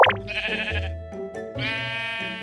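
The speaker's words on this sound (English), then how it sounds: "So I took the sheep back with me and made them a fancy little barn with a roof and everything." Sheep in the Minecraft video game bleat in a quick series of two or three game-sound calls, clear and close, with a pause between them over a faint background tone.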